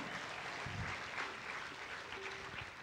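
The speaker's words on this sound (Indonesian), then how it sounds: "Yuk tepuk rame-rame" An audience at a youth karawitan gamelan concert claps steadily and fills the space with dense, continuous applause that holds at an even level throughout.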